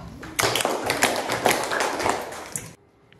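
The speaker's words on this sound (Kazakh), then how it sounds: "Жарайсыңдар, шапалақ." Students applauding in a sixth-grade math classroom: a brief burst of close, uneven hand clapping lasting a couple of seconds, then stopping abruptly into quiet room tone.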